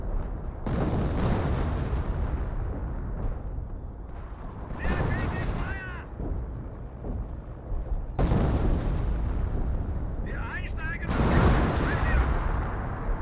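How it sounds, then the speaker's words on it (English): Artillery from a creeping barrage in Company of Heroes 1 lands in repeated heavy booms and rumbling explosions, with small-arms fire crackling between the blasts, loud and continuous across a busy battlefield. "You also got another creeping barrage, looks like."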